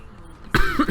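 A person with a cold gives a sudden, close cough after a quiet moment, followed by a rough throat-clearing.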